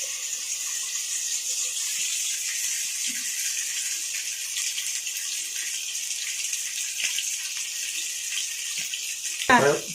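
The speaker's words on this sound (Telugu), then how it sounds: "చేప నూనెలో ఫ్రై చేస్తున్నాం" Fish frying in hot oil in a kadai, a continuous close hiss and crackle of bubbling oil holding steady throughout, with a brief clatter at the very end.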